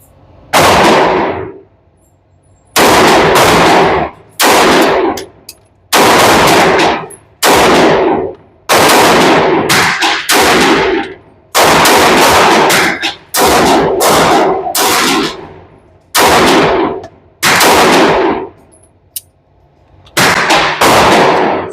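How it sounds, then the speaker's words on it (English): Rapid strings of pistol shots from an M&P Metal Carry Comp and a Sig P365 AXG at a range, loud and close, fired in bursts of several quick reports separated by short pauses. "Let's just shoot some more."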